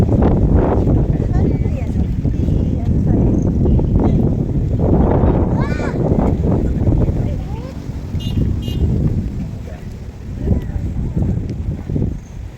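Strong wind buffets the microphone outdoors during fight training on an uphill sprint route, a loud rumbling roar with gusts that rise and fall, with a person talking over it.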